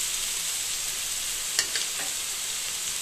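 Leafy greens frying with garlic cloves in hot oil, a constant close hiss and crackle with a couple of faint clinks from stirring.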